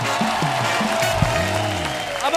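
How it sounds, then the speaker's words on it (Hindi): Studio audience clapping on a Hindi comedy talk show, a steady dense wash of applause lasting a couple of seconds, with a voice speaking over it. "जोरदार तालियां हो जाए यार"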